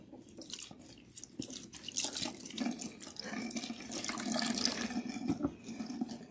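Tap water runs steadily into a sink while hair is rinsed clear of a protein treatment, a continuous splashing hiss with drips and shifting flow, close and alone.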